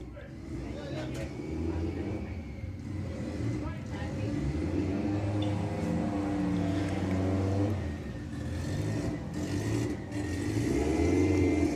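Audi TT making a drag racing run at Santa Pod Raceway during qualifying, a steady engine drone with rising revs, with a commentator speaking over it throughout.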